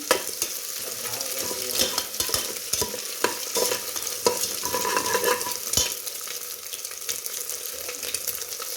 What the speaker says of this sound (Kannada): ಎರಡು ಮೊಟ್ಟೆ ಹೊಡೆದು ಹಾಕೀನಿ ಚೆಂದಾಗಿ ಹುರ್ಕೊಂಡು